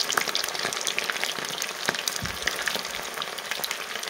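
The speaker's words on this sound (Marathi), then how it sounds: "तर आपण हे सोयाबीन आहेत ह्याच्यात आपण तळून घेऊया" Soybean chunks fry in hot oil in a home kitchen, a steady close crackle and sizzle with tiny pops throughout, no talking over it.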